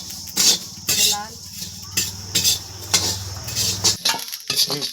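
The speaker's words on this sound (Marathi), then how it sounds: "आता धने भाजून घेऊ" Coriander seeds dry-roast in a pan, stirred with a utensil in quick repeated scrapes and metallic clinks, with a faint voice murmuring underneath.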